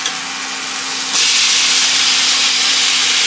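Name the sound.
marinated chicken sizzling as it is added to the pan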